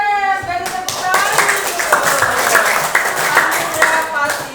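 Children clapping hands together in an Indonesian classroom during a geography lesson, a burst of rapid claps mixed with overlapping young voices talking over it.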